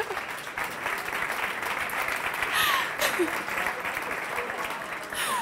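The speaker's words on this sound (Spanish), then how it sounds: "Señores, un aplauso, ¿no?" Conference audience applauding at a trading event, a steady, dense wash of clapping that carries throughout with a brief swell in the middle.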